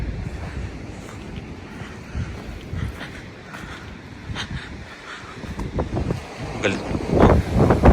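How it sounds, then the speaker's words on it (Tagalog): Strong blizzard wind in Canada gusting between houses and apartment buildings, a continuous roaring rush that swells louder toward the end, with wind buffeting the microphone and a person talking over it. "Grabe pa rin ang hangin."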